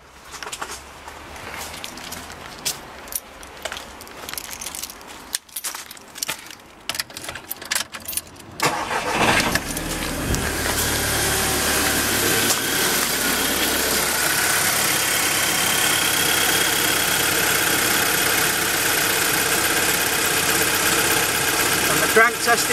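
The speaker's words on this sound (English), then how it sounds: "I need to start the engine." Scattered handling noises and faint background sounds come first. Then a car engine cranks and catches, settling into a steady, fairly loud idle for the rest of the stretch, with a battery tester in use during a crank test.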